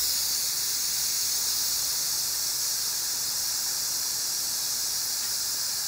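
Loud, continuous hiss of steam venting from an Instant Pot pressure cooker cooking pulled pork, a steady bright rush with no breaks, close by and alone.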